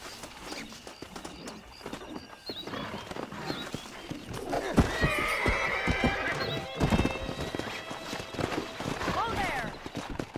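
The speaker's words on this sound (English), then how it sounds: "there's a pack of wild horses nearby" Wild horses in the Red Dead Redemption video game, with hooves clip-clopping and galloping at close range, several whinnies and neighs, and birds cooing in the background, all under spoken voices.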